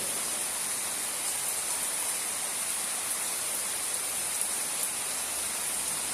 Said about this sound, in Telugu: పెద్ద వర్షం పడింది, ఆగిపోయింది, మళ్ళీ ఇప్పుడు స్టార్ట్ అయింది